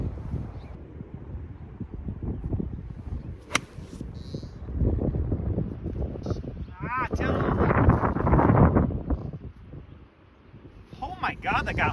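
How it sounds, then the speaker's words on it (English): Cold, strong wind gusting across a golf course, roaring and buffeting the microphone in surges that swell and fade, with someone talking at intervals. "Dead back into this wind once again."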